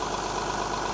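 Diesel 3116 engine in an old military truck, left sitting for years, idling steadily with a low, even rumble close by and no voices.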